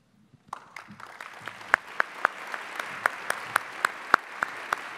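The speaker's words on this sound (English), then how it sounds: "Please join me again in giving a round of applause for our speakers and panelists." Audience applause closing a panel session at a logistics luncheon, a round of clapping that builds over a few seconds, with sharp individual claps standing out over a moderate crowd wash.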